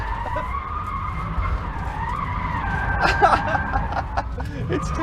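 A Rimac Nevera electric hypercar drifts in drift mode, its tires skidding and squealing in a sustained high whine over steady road rumble, growing louder and rougher toward the end.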